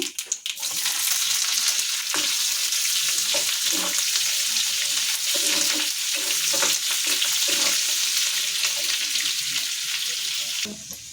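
Onions sizzle loudly and steadily in hot oil over a tempering of cumin and urad dal, with occasional stirring, close and continuous for most of the stretch.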